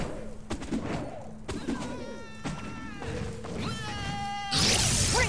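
Cannons fire in the Skylanders SWAP Force video game, a rapid series of sharp booming blasts mixed with whooshes and tonal game effects, ending in a loud burst of noise.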